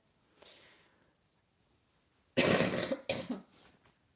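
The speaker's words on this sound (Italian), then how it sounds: "è solo una tosse che non riesco a togliere" After a quiet stretch, a loud cough bursts out close by, followed by a second shorter cough a moment later.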